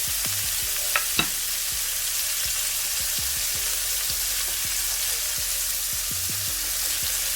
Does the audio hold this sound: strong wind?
no